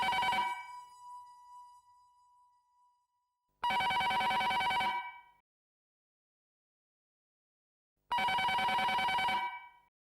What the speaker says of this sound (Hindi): नीचे आके फोन उठा